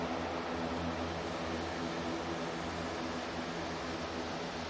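Steady broadband roar of a Ryanair jet with CFM LEAP-1B engines at Manchester Airport, a continuous, fairly distant engine rumble and hiss holding level throughout, with no voices.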